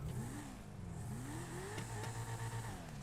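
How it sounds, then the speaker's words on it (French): A sports car engine in a GTA video game revs up and down in repeated rising and falling sweeps, a steady mid-pitched growl with a few sharp clicks, heard alone without talk. "Je vous laisse écouter le bruit du moteur"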